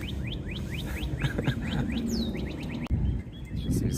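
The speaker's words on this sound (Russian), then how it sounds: "Сейчас весна, птички поют." Songbirds singing in the countryside on a cold spring day: repeated rising chirps and a longer sweeping whistle, fairly clear over steady low rumble and background noise, with a brief dropout midway.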